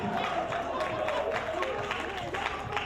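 A crowd keeps clapping at a music event while an act is brought on stage, with a steady wash of claps mixed with crowd chatter and background music.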